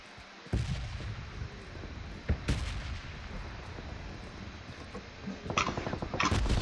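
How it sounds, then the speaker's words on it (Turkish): Bursts of gunfire crack out in a game, a loud shot near the start, another mid-clip, then a rapid volley of repeated shots toward the end over rumbling background. "Anam anam anam silah sesleri geliyor."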